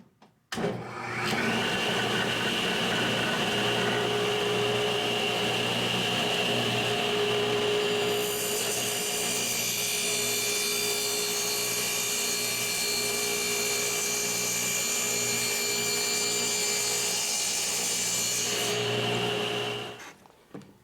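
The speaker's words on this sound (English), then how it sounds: "And that way remove the material with the table saw." Table saw ripping through the wood of a 10-frame beehive body being narrowed to 8 frames, a loud steady whine of blade and motor held for about eighteen seconds after spin-up, with a brighter cutting tone joining midway.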